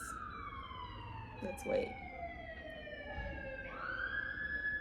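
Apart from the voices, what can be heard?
emergency vehicle sirens on New York street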